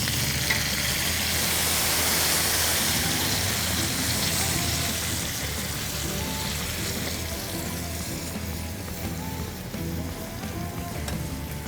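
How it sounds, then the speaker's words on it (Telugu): Water goes into a hot pan of Godavari-style natu kodi, a country chicken curry, and sets off a loud, broad sizzling hiss that gradually settles into a steadier bubbling simmer, with no speech over it. "ఇప్పుడు ఏం చేద్దామంటే నీళ్లు పోసేద్దాం."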